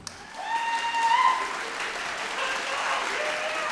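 An audience at a vocal battle show at the Cosmopolitan applauds, with loud, dense clapping from a crowd swelling briefly and then holding steady, with some cheering mixed in.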